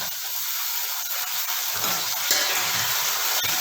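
Onion frying in a pan at home cooking: a dense, continuous close sizzle with occasional soft stirring scrapes and crackles, no voices.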